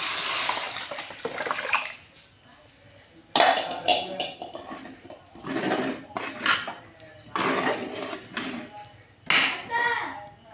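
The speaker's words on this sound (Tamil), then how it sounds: "இப்போ நம்ம கரைச்சி வச்சுக்கிற புளி தண்ணியை அதில் ஊற்றிக்கலாம்." Tamarind water splashes into sautéed masala in a pan for a village-style sardine fish curry, pouring in several uneven bursts with clinks of the vessel between them.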